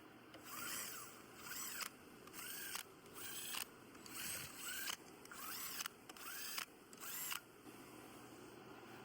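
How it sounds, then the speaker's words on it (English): A torque wrench used as a ratchet on an 11 mm bolt during an engine rebuild gives quick runs of fine clicking in short rhythmic strokes, quiet and close, with no voices. "We're just gonna use it as a ratchet"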